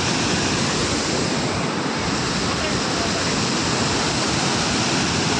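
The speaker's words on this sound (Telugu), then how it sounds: "రెండు గేట్ల ద్వారా నీళ్లు కిందకి వదులుతున్నారు" Water released through two raised gates of the Pulichintala project dam rushes down in a loud, steady, unbroken roar, heard close and filling the whole span.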